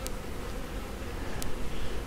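A mass of honey bees hums steadily from a bee package being installed, a dense, close, continuous buzz with brief louder passes of single bees near the ear.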